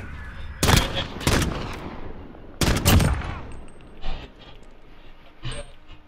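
Sniper rifles fire in a video game, several loud sharp cracks in quick pairs with echoing tails, followed by fainter distant shots.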